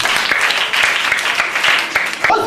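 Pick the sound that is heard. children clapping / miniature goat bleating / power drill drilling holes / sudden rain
children clapping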